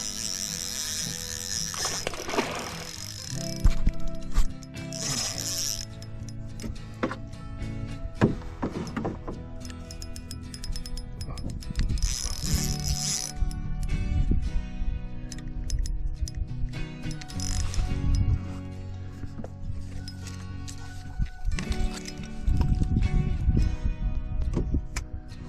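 A fishing reel's drag on a river outing ratchets and clicks in rapid runs, with mechanical whirring and handling noises continuing for about half a minute with no talk.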